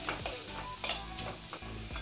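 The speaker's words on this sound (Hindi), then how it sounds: "इसको हल्का सा भून लेंगे।" Dry ground spices (red chilli powder, turmeric, cumin) frying in oil with garlic in a pan for a garlic curry, with a soft continuous sizzle under a few scraping stirs of a spoon.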